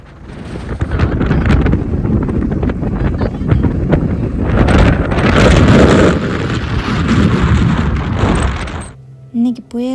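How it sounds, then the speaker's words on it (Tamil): Heavy wind buffets the microphone on an exposed hill climb at Roseberry Topping, loud roaring gusts that rise and fall for about nine seconds before cutting out abruptly. "சுத்தமாக நடக்கவே முடியாமல் அவ்வளோ காற்றடிக்குது."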